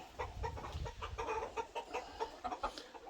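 Hens cluck in a backyard chicken pen, a rapid run of short, close clucks and murmurs over a soft rustling background, with no talk.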